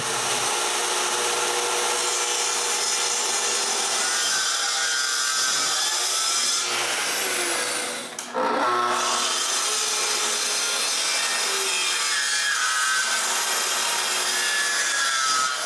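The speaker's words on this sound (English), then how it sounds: "Now that I don't see any glue anymore, I can cut the frame's corners." A saw cuts through the corners of a wooden frame on a homemade wooden bandsaw project, a continuous rasping, rubbing stroke sound close by, briefly pausing around the middle before resuming steadily.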